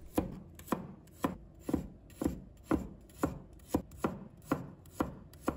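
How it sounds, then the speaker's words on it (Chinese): A knife slices through garlic cloves on a board, about a dozen crisp evenly spaced chops, close and distinct with no voices. "再准备一把大蒜，把它切成片。"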